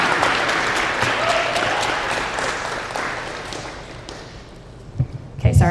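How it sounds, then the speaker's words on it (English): A crowd at a senior night ceremony gives a round of applause that is loud at first and fades out over several seconds, ending with a few close taps and knocks. "have everyone give everyone a round of applause"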